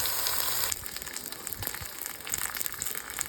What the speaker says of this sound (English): just searing the one side, now doing the other side